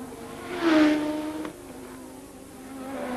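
Gilles Villeneuve's Ferrari Formula One race car shrieks past with a high, buzzing engine note that swells quickly, then fades to a thinner drone in the distance.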